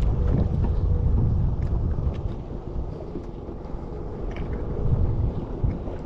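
Boat moving fast over clear water, a steady broadband rush of engine and water noise with wind buffeting the microphone, fairly loud and continuous throughout, no talking.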